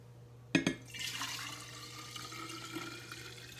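Cold brew coffee is poured into a storage jar, starting with a sharp clink and then a steady trickling splash that gradually tapers off.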